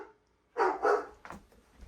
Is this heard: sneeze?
no